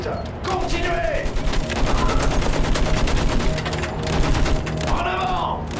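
Sustained machine gun fire in Battlefield 1 rattles continuously through a World War I trench battle, dense and loud throughout, with shouted voices and explosions mixed in.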